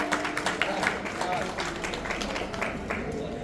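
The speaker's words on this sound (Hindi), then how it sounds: "बहुत सारी तालियां के।" Scattered clapping from an audience at an Eid celebration event, moderately loud and continuous, with a voice speaking over it.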